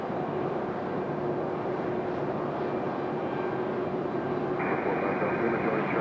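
Jet airliners, a JetBlue and a Lufthansa, at Raleigh-Durham International Airport, giving a steady, loud broadband roar that holds throughout with no break.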